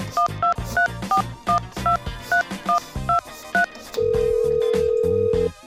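A telephone dials a string of rapid touch-tone beeps, then a long continuous ringback tone follows, part of a joke call staged from a radiator; loud and close, with no voices.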